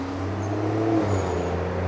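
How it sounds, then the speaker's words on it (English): Road traffic by a roadside near woodland makes a steady low rumble of passing vehicles, with engine tones shifting slightly partway through. It is moderately loud and continuous, with no talk. "let me just get away from the road out of the traffic noise"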